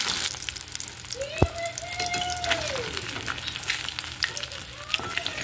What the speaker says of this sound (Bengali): মাছগুলো 2 পিঠ বেশ ভালোভাবে ভেজে আমি তুলে নেব।